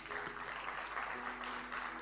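A church congregation claps together in worship, a dense steady wash of applause lasting the whole moment with no clear break, fairly even in loudness.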